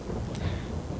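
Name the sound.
rain and thunder in Farming Simulator 22 video game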